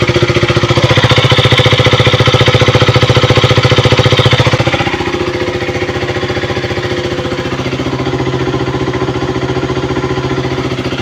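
A KTM Duke or RC 200/390 single-cylinder motorcycle engine, repaired after a damaged oil pump, idles loud and close with a rapid even chugging beat that eases slightly in volume partway through.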